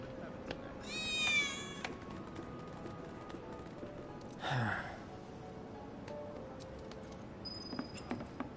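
A cat meows in Final Fantasy VII Remake, a drawn-out rising cry followed by a shorter second call, mid-distance over a steady game ambience with faint background sounds.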